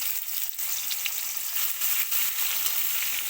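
Onion frying in oil left over from frying chela fish, a steady close sizzle with faint stirring, no voices.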